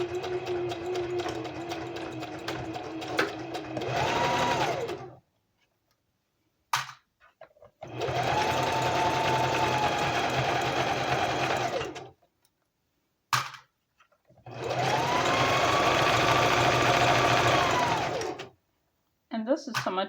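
A sewing machine run by foot pedal stitches a pocket in three steady bursts of a few seconds each, a fast mechanical whirring hum that stops and restarts with short silent gaps between runs.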